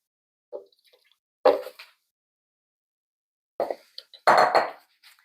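Softened apricot drink mixture for Amar el Din is scooped and poured into a blender, giving a few separate wet plops and light clinks against the container, with quiet gaps between bursts and no talking.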